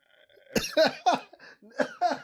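A run of about five short, forceful coughs close by, spaced roughly half a second apart, with no talking.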